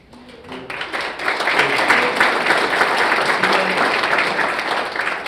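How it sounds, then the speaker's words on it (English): An audience claps during a State of the Town 2024 address: a dense, steady round of applause from many hands that starts just after a brief voice and carries on evenly to the end. "I heard a clap there."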